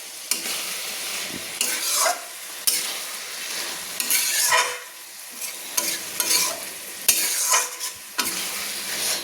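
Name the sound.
cabbage chicken curry frying with spices in a pan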